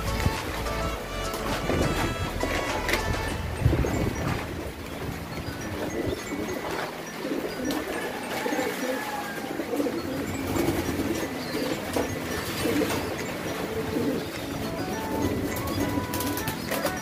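Pigeons coo softly in a loft during a typhoon amid steady outdoor noise, their low murmuring calls repeating throughout against a constant broadband background.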